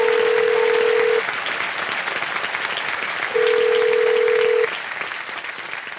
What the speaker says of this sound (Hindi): अरिजीत सिंह को फोन लगाया जाए।